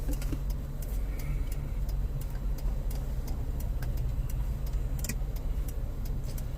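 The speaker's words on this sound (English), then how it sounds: "It's a lot of cars driving around these little tiny towns." Steady traffic rumble from cars driving around a small town, a continuous low drone with faint ticking and clicks layered on top, no voices.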